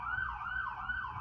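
An ambulance siren wails in a quick rising and falling pattern, sounding moderately distant, steady and alone for just over a second.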